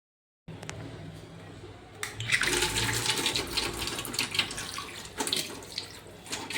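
A tap fed by a motor pump gushes into a sink, running steadily after a quiet start, with splashing as it hits dishes; close and fairly loud, no talking.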